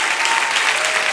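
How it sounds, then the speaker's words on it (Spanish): A church congregation claps together in a dense, steady burst of applause that fills the room, loud and continuous for about a second. "Apláudela a la bondad de Dios."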